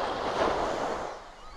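Small waves wash in steadily at the Jersey Shore, a continuous broadband surf hiss with a light breeze, fairly close and moderately loud, easing slightly toward the end, with no voices.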